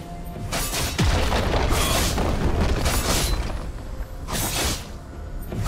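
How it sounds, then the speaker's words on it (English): Repeated heavy booming blasts of a turret being destroyed in the League of Legends game, several deep explosive bursts rolling one after another over a dense, noisy game backdrop. "Blue team's turret has been destroyed."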